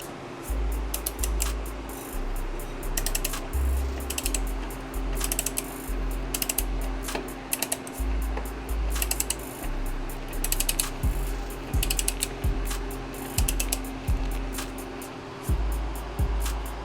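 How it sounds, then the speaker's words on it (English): A torque wrench ratchets in repeated bursts of quick, sharp clicks as it tightens a motorcycle axle nut during chain maintenance. The stroke pattern repeats with short pauses between strokes, close and clear, with no voice. "Now, we're gonna put this wrench back on here."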